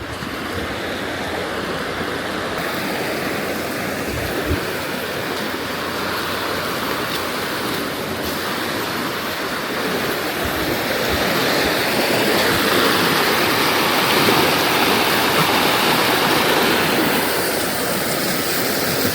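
Kawasan Falls in Badian, Cebu, Philippines roars as a steady, dense rush of falling water, loud and continuous, swelling slightly midway with no voices.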